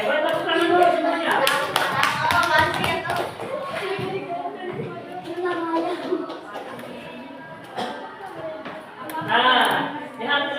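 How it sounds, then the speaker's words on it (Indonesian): A fifth-grade Pancasila class of children claps hands together in a brief burst of rapid, uneven claps near the start, mixed with children's voices and a teacher talking around it. "Oke, baik tepuk tangan dulu semuanya."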